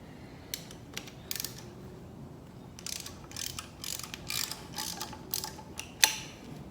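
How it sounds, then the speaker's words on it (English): Ratchet wrench clicking in short bursts as engine bolts are loosened in a home garage during an engine swap, with quiet gaps between rapid ratcheting runs and a sharper clack near the end. "Just gonna loosen up all the bolts for right now."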